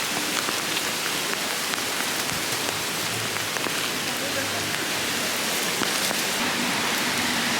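Heavy rain shower pouring steadily outdoors, a dense continuous hiss of drops drumming on surfaces, loud and close throughout with no letup.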